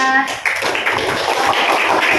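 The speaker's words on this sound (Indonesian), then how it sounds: "Tepuk tangan buat kelompok 3" Schoolchildren in a fourth-grade classroom clap together for a group, a dense patter of small hands that follows a brief voice at the start.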